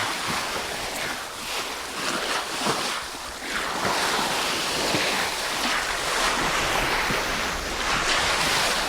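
Ocean swell laps and washes against the side of an iceberg, a coarse, hissing, scraping surge that rises and falls continuously with no voices.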